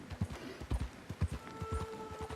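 Horse hooves clip-clop at a steady trot in Red Dead Redemption 2 story mode, a repeated rhythmic thudding close by, with a faint sustained tone running underneath.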